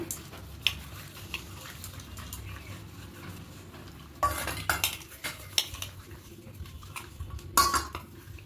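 Small bowls being greased with oil for a steamed mango cake, with light clinks and scrapes of fingers or a spoon against the bowls, scattered taps growing busier toward the end, close and quiet.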